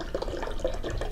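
Mountain Valley spring water being poured into a green drink, a close, steady splashing trickle of liquid filling a container for about a second, with no voices.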